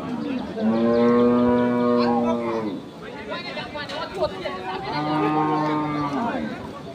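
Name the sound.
cattle mooing at a cattle market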